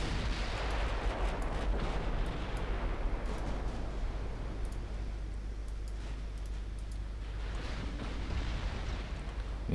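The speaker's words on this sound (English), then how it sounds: "Fricklers is being focused by big 18-inch guns." Heavy 18-inch naval guns fire in a video-game sea battle set in 1925, a dense rolling barrage of deep booms and rumbling blasts with scattered sharp reports, continuous and loud throughout.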